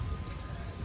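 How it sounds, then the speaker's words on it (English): Misty rain falls outdoors during a stormy day, a faint, even hiss of fine droplets with soft patter, brief and quiet. "It's still misty raining."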